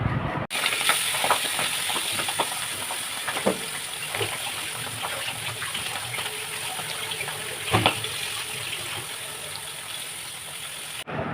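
Spiced pabda fish slid into hot oil in a wok, a loud steady sizzle with occasional clinks and scrapes of handling, close and continuous throughout.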